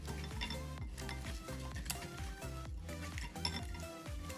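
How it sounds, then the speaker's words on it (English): A hand whisk beats eggs and honey in a bowl for Japanese dorayaki pancake batter, making quick, rhythmic clinks and scrapes against the bowl that are close and fairly quiet, with no speech. "I'm using my hand whisk"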